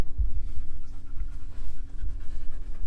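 A cattle dog pants close by, quick rhythmic breaths in a steady run with no pauses and no other sounds.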